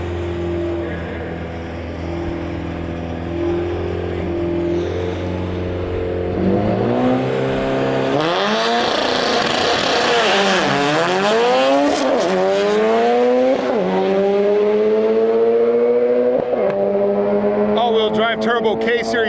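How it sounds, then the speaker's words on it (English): Turbo K-Series all-wheel-drive Honda Civic, about 1100 horsepower, launching in drag racing at Gainesville Raceway: a steady loud idle drone builds into a rising, wailing rev as the car pulls away, with voices in the background. "Turbo K-Series Civic, 1100 horsepower, going 910, 160 miles per hour."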